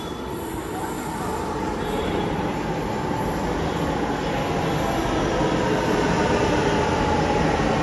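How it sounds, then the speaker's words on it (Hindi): Gurgaon metro train at a station: a loud, steady rumble of the train with sustained high-pitched wheel squeal running continuously throughout, close by and with no voices. "अभी हमने मेट्रो स्टेशन से एग्जिट ले लिया है गुड़गांव के"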